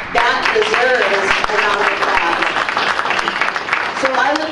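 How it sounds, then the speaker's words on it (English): Applause from the audience at a community health forum on HIV prevention, steady and fairly close, with cheering voices and whoops rising over the clapping throughout. "That deserves a round of applause."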